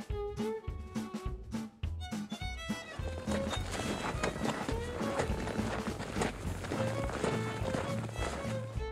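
Horse hooves walking in the Nancy Drew: Secret of Shadow Ranch video game, a steady series of clip-clop steps over continuous ambient game music and background sound.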